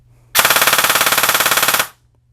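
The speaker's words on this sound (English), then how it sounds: "All right, here's full auto." A single burst of rapid full-auto fire from an airsoft gun with a brushless motor, a fast, even string of sharp pops lasting about a second and a half.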